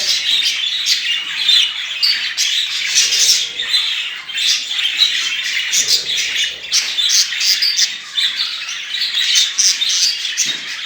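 Caged budgerigars chirp and squawk nonstop, close and loud, in a dense overlapping chatter of sharp calls from several birds.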